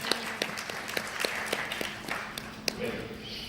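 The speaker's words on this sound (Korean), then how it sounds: "그래서 큰 박수 보내드리고자 합니다" Applause from a forum audience after a thank-you to the organisers, a thin scattering of claps over about three seconds under a speaking voice.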